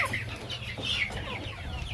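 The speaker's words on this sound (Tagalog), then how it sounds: "Mga manok na mga katupay oy" Farm chickens on a Bohol farm cluck and chatter close by, several short calls overlapping above a low steady background hum, with no voices.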